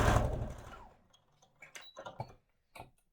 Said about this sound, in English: remember to reverse sew at the beginning and the end